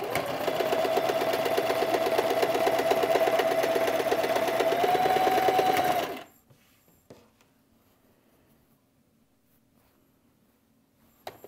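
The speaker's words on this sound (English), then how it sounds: "And just start straight sewing." A sewing machine straight-stitches pairs of quilt patches for a Rob Peter to Pay Paul block, running steadily and loud for about six seconds, then stopping abruptly, leaving near silence with a faint click at the end.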